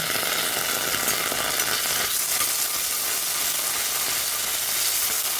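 Cumin paste frying in oil for a fish and potato curry: a steady, even sizzle holds for the whole stretch, close and without any voices.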